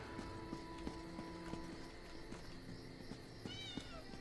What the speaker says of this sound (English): That's a cat, not a rat.